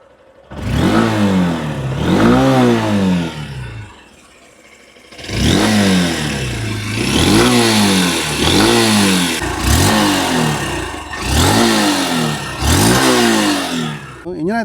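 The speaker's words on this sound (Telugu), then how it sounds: "సో ఒకసారి ఎగ్జాస్ట్ నోట్ అలాగే ఇంజన్ సౌండ్ వినండి." A Honda Unicorn 160 motorcycle revs repeatedly, its engine climbing and falling in about eight loud, close bursts with a short idle pause between, the exhaust note rasping sharply on each rise.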